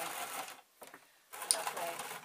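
Sewing machine running in short bursts while stitching a zip seam on a make-up bag, with a pause in the middle before it whirs on again at close range.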